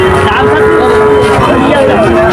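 Young Friesian calves at a crowded cattle market low and bleat amid a dense din of livestock and voices, with a steady tonal drone running underneath throughout.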